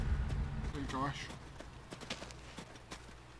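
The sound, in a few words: horse hooves clip-clopping in a video game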